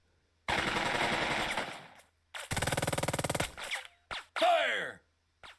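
Gunfire in the tactical leadership game Burden of Command: two long loud bursts of rapid machine-gun fire, then a few short sharp shots and a whistling, swooping effect, with no talk.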